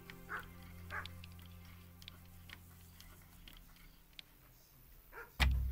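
Dog barks from the medieval game Kingdom Come: Deliverance, a few short yips and woofs spread across the clip at moderate distance, ending in one louder close bark over a low ambient hum.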